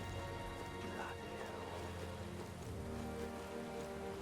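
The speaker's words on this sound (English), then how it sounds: "Rain." Steady rain falls in the video game Metaphor ReFantazio, a continuous soft hiss with faint droplet patter over a background music bed, with no voices.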